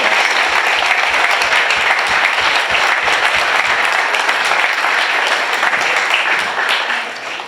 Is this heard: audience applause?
yes